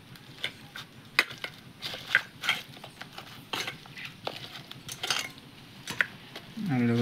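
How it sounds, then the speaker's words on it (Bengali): Spiced potato filling for pani puri, mixed with chili powder and coriander leaves, being mashed and kneaded by hand in a bowl, giving soft repeated squishes and scattered clinks of utensils at close range, with no talk. "আলুটা খুব সুন্দরভাবে মেখে নেওয়া হচ্ছে।"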